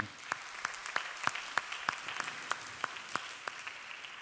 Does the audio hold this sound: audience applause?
yes